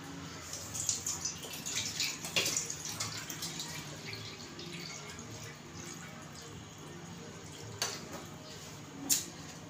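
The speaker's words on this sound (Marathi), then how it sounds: "मी याच्यामध्ये पाणी टाकते" Water pours into cooked dal in a pot while dal palak is being made, giving a soft splashing trickle that fades into quiet. A few sharp clinks and taps from the utensils come toward the end.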